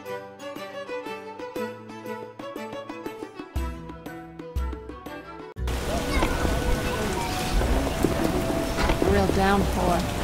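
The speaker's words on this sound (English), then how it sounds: "Real downpour." Heavy downpour in The Witcher video game, a dense steady wash of rain arriving abruptly after a stretch of plucked music and then holding loud to the end.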